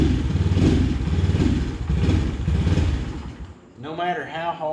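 An Eaton Viper 70 engine sputters and labours unevenly as it struggles to start and keep running, its rough, lumpy running loud and close before it dies away, after which a voice speaks briefly.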